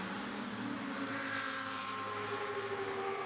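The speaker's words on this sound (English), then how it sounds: "The Brabham makes this fantastic noise. It howls down the hill." A Brabham race car's engine howls as it runs downhill on a circuit, a steady, droning tone heard at some distance with slight pitch shifts, fairly faint and continuous throughout.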